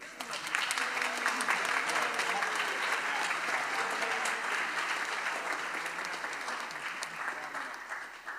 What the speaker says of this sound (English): come between here and here so that you're on the stream and get an extra round of applause